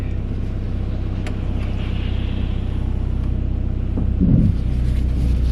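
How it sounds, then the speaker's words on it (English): Idling car engine warming up, a steady low rumble close by that holds even throughout with a brief swell near the end and no talk. "Wait for the car to warm up"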